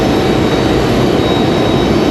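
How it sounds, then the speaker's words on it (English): An American Airlines A321 jet takes off at Raleigh-Durham airport, a loud, dense, continuous engine roar that stays close and unbroken from start to finish. "That A321 leaving the ground already."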